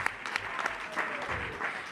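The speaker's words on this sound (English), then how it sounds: "a round of applause, guys, to him" A live audience gives a brief round of applause for an aspiring presidential candidate for Ghana, moderate clapping with scattered sharper claps and a faint voice underneath.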